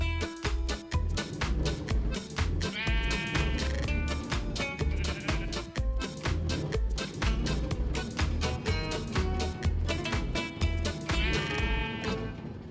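A flock of Minecraft sheep bleat over and over in a dense, overlapping stream, loud and constant in the video game's sound.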